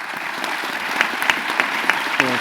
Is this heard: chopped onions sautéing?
no